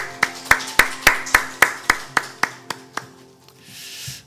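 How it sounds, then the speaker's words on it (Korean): A congregation at a morning church worship service claps in praise: about a dozen sharp, loud claps in steady unison rhythm that gradually slow and trail off into quiet. "우리 소망 되신 주님께만 감사와 찬양의 박수 드리기 원합니다."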